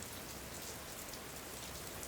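Steady rain pours down across greenery in a natural outdoor setting, a dense, even hiss of drops pattering on surfaces with no pauses and no voices.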